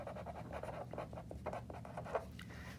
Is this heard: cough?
no